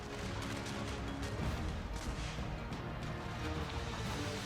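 Cannons firing in a video game battle, dense booming blasts blended into a continuous roar of gunfire and chaos.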